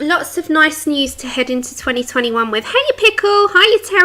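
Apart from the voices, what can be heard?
No distinct noise like a dog, phone or traffic.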